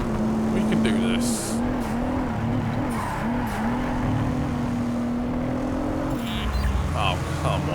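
A Toyota Supra races in the Project CARS 3 game with an engine drone and sustained tire squeal through corners, loud and close, with a person talking over it.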